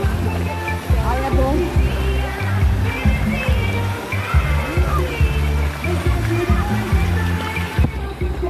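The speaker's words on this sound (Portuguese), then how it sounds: "Tomar um banho nessa cachoeira aqui" A waterfall in an Amazon forest park roars steadily, a constant broad wash of flowing water with people talking loudly close by over it.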